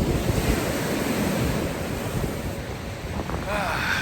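Ocean waves at a beach rush in a steady, broad roar, heavily mixed with gusting wind buffeting the microphone.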